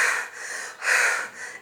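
A teacher's voice imitates panting from lack of stamina, giving three heavy, breathy exhalations in an uneven rhythm, close and fairly loud, with no words spoken.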